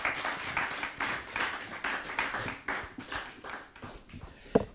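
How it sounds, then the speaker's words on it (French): Audience applause at a live French show, brisk clapping from a modest crowd with a pulsing rhythm, moderately near and fairly soft, ending in one sharper clap. "Applaudissements s'il vous plaît pour Eloïcha."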